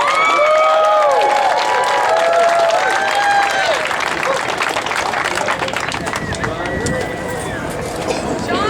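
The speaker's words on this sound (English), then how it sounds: "Yeah, clap. Yes, make some noise." At an outdoor marijuana march in Dallas, a crowd claps and cheers loudly, with whoops and shouted voices rising over steady applause that keeps going throughout.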